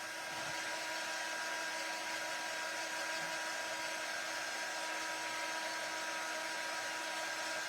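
A small dryer blows with a constant, loud, even whir to dry freshly painted nail polish designs, holding steady the whole time with no talking.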